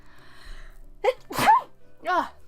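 A single sharp sneeze with a quick inhale before it, followed by a brief spoken remark.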